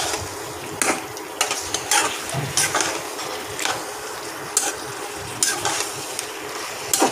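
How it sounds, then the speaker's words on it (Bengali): Beef frying in oil in a pan is stirred, with repeated spatula scrapes and clatters over a steady sizzle, close and fairly loud, no speech. "ভালো চাড়া করে নেড়ে চেড়ে নিতে হবে।"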